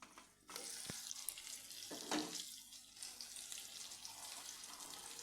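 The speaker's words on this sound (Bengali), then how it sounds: "মশলার সঙ্গে তেলের সঙ্গে ঘিয়ের সঙ্গে সবজিগুলো পুরো ভাজা ভাজা হয়ে যাচ্ছে" Soft sizzling of vegetables and spices frying in oil and ghee in a pan, with scraping stirs and occasional clinks, fairly quiet and close.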